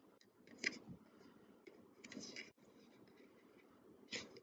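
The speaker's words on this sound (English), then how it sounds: "I'm going to keep cutting down and cut this corner off too" Scissors cutting the corners off a paper apple craft, a few faint crisp snips and rustles spaced apart in a quiet room.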